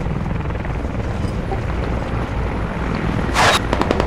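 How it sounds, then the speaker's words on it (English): A helicopter in the video game Squad thrums steadily at moderate distance over low rumbling background noise, with a brief sharp burst near the end and no talking. "Oh, heli ahead. Heli straight ahead."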